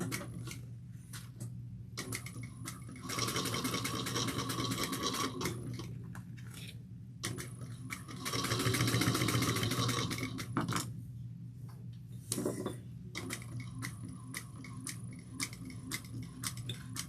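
A sewing machine stitches a tote bag in bursts, each run a rapid, even mechanical chatter lasting a few seconds, separated by short pauses with faint ticking, close and moderately loud with no voices.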